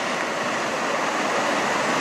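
Water pours steadily over a small weir in Lippstadt, a loud, continuous broadband rush heard up close with no voices.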